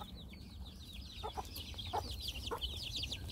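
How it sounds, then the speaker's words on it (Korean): Mother hen leading her young chicks in a farmyard, soft repeated clucks under a constant overlay of high, chirping peeps from the brood, moderately close. "이 어미가 이 병아리들을 따로 데리고 다니고 있습니다."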